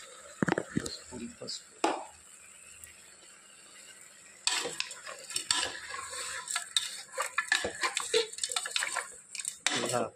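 Turmeric being stirred into a cooking pot, with a spoon scraping and clinking against the metal in irregular bursts and some faint sizzling, while a person talks throughout.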